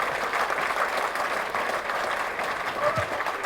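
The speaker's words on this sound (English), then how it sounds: "can we have a bigger round of applause now for all the engineers and the technocrats" An audience at a university convocation claps steadily, a dense, continuous wash of applause from a large crowd at moderate distance that carries through the whole stretch.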